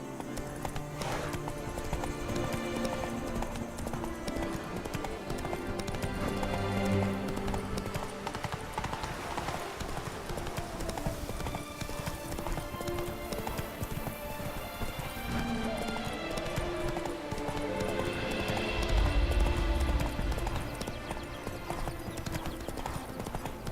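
Clip-clop hooves of Roach the horse galloping in The Witcher 3, a steady rhythmic beat running throughout over a busy game soundscape, with a brief whinny and a louder thud near the end.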